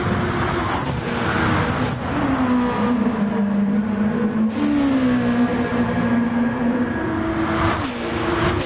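Race cars in a PS4 racing game drone steadily, engine notes rising and dipping as they accelerate and shift, a continuous close whine with no voices.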